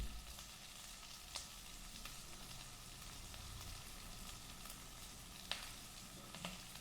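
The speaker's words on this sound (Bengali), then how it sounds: "দিয়ে এটাকে আবারও নাড়াচাড়া দিয়ে ভেজে নেব ভালো করে" Dried fish with a little onion and salt is stir-fried in a pan, giving a soft, steady sizzle with occasional light clicks of a spatula; the sound is quiet and close, and no one speaks.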